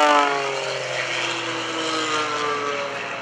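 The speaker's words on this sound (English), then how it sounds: "Notice how fast this airplane rolls." A single-engine aerobatic airplane flown by Gary Ward rolls through manoeuvres at the Greenwood Lake Airshow, its engine a loud, steady propeller drone with a slowly shifting pitch throughout.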